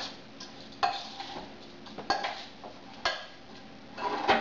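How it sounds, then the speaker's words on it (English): A spoon scrapes and clinks against a bowl while warm spiced cabbage salad is stirred, giving four distinct strokes at an uneven pace, close up and with no talking. "Just mix it up with a spoon"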